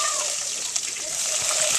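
Chopped onion drops into hot oil in a wok and sets off a loud, continuous sizzling hiss that holds steady close up for about two seconds before cutting off abruptly.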